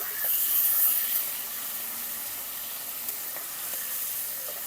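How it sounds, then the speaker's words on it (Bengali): Fish frying in mustard oil in a wok gives a steady, close sizzling hiss, slightly louder at first and then settling into an even crackle. "কড়াই বসিয়ে দিলাম এবার যেই গরম হবে কড়াই তখন তেল দেবো সর্ষের তেল এবার দিয়ে দিচ্ছি মাছ"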